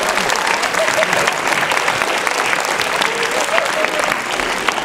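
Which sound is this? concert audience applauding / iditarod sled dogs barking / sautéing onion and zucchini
concert audience applauding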